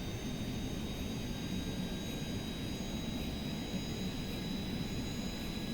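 A jet aircraft engine at full throttle in a flight video game, a steady loud broadband roar with a low rumble and faint high whine held unchanged throughout.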